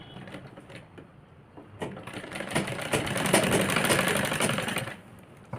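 A sewing machine stitches the side seam of a girl's crop top, whirring in a steady rapid rattle that speeds up and grows louder mid-run before easing off.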